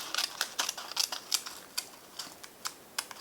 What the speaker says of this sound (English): I flipped it over and I'm going to cut on the line once again